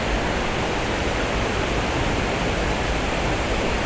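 A waterfall pours over a river spillway in a loud, steady, unbroken roar of rushing water that fills the whole clip.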